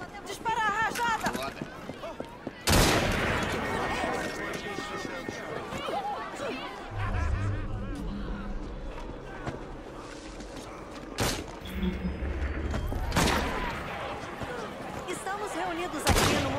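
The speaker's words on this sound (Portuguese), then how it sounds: "Dispara a rajada!" Gunfire bursts ring out in the video game Assassin's Creed Syndicate: a few loud, sudden blasts spread across busy game sounds, under voices talking.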